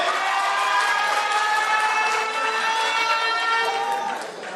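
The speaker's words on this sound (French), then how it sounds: "Applaudissez pour Leeds, s'il vous plaît." An audience at a Guinean independence anniversary celebration in Manchester applauds in a dense, sustained wash of clapping and cheering that fades slightly at the end, with a voice over it.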